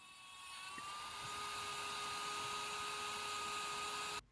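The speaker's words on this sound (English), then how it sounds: "Here I'm cutting an aluminum rod." A Dremel rotary tool with a reinforced cut-off wheel cuts an aluminum rod with a steady, high-pitched whine and grinding hiss. It runs close and continuous for about four seconds and then stops abruptly.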